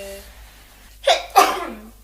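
A person sneezes close to the microphone, a quick inhale and then two loud, sharp bursts in succession after a quiet moment.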